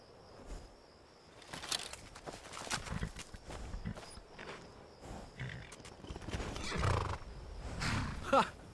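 Horse neighing in a video game scene, a whinny among clip-clopping hooves and scuffling, with people talking over it at moderate volume.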